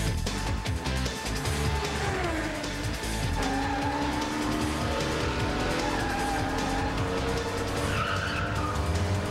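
The animated Mach 5 race car from Speed Racer driving hard on a mountain course, with a loud sustained engine roar and drawn-out tire squeals rising and falling over a dense, busy soundtrack.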